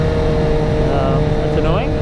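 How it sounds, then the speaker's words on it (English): BMW S1000R motorcycle engine droning steadily up close, with revs rising and dropping around a clutchless downshift near the end, under a speaking voice. "I just went for a clutchless downshift"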